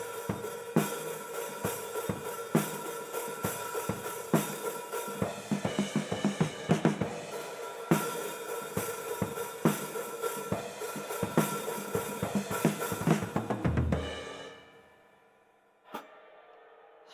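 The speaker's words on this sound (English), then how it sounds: "I switch to more of a straight rhythm with the hi-hat open" Drum kit beat played with a steady rhythm of sharp kick and snare hits under a washy open hi-hat, ringing out and fading near the end before one final hit.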